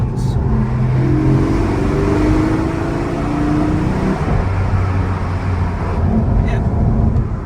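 A Porsche GT4's engine revs inside a tunnel, a loud, continuous booming drone whose pitch rises and sweeps over several seconds. It fills the enclosed space without any talk over it.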